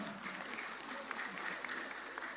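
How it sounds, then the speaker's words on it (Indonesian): Steady applause from a crowd, a dense clatter of clapping that continues evenly throughout. "Tepuk tangan."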